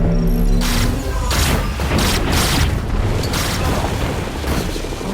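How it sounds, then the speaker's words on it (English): A loud, close blast of booming, crackling noise with rumbling debris that rolls on for several seconds without speech. "The explosion wasn't that big."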